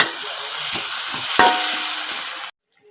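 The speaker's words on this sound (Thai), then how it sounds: "ใส่น้ำมันลงเล็กน้อยนะคะใส่ กระเทียมกับพริกสดลงไป" Garlic and fresh chilies stir-fry in a little oil in a pan, a steady close sizzle and hiss with a few light clinks of a utensil, cutting off abruptly near the end.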